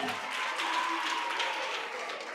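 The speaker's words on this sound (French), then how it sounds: "Applaudissez pour elle." Audience applause at a school quiz show, a steady wash of clapping from a crowd that holds at even loudness throughout.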